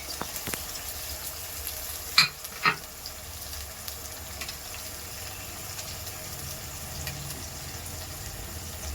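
Ginger, garlic and green chili paste sizzling in a hot pan, a soft steady fry with two brief clatters near the start and no talk.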